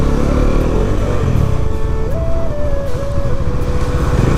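A Bajaj Dominar 400 BS6 motorcycle on its stock exhaust rumbles with a deep, loud, steady engine note, rising and settling briefly as it revs while riding, with no voices.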